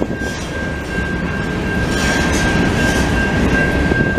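A train rumbles past a level crossing at close range, a loud steady roar of wheels and carriages with a high sustained tone riding above it, no voices.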